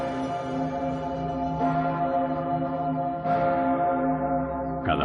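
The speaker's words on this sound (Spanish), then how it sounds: "Cada vez que suena, la Pummerin, la mayor campana de Austria, recuerda el sitio de Viena." Pummerin, Austria's largest church bell, tolls with deep, rich sustained harmonics. Fresh strikes come at steady intervals of roughly one and a half seconds, each renewing the long ringing drone, with no voices.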